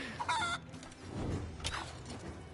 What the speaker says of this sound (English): Come here, you chickens.